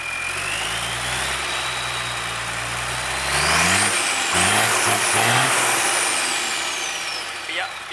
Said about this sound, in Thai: เต็มระบบครับ เร่งเลย อ้าวเร่งสายโชว์เลยครับ